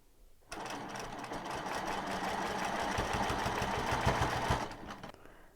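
Sewing machine stitching a quilting line around the top of a letter S, a rapid mechanical whir with fast regular needle clatter starting suddenly, running steadily for about four seconds, then stopping.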